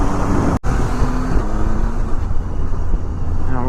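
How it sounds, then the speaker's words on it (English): A Triumph Tiger 800xc motorcycle cruises in third gear along a rural road in western Pennsylvania, with a steady, loud engine drone and wind rush, briefly dipping near the start. "Right now, cruising in third gear along this road here,"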